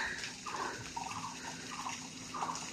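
A weak trickle of water runs from a tap, a faint, uneven splashing and gurgling with soft bubbly spurts, quiet and close.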